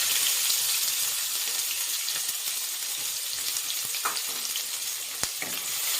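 Onion pieces frying in oil with whole dried chilli, bay leaf and cumin seeds, giving a dense, continuous close sizzle with a few faint clinks of a utensil and no voices.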